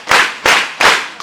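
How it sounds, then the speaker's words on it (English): Three sharp, loud claps in an even rhythm, close and crisp, from students at a high school gathering. "Let's clap for them again."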